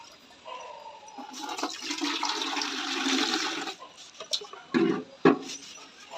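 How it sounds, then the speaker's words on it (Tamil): Water is poured into a lidful of washing powder in a pan, a broad rushing, splashing stream running steadily for several seconds, then giving way to a few short sloshes and knocks. "இப்போ தண்ணி மிக்ஸ் பண்ணுறோம்."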